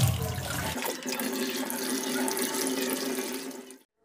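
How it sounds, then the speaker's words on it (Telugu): Incoming water rushes through a pipe into a tank, a steady loud gushing stream that starts abruptly and cuts off just before the end. "పైప్లో వాటర్"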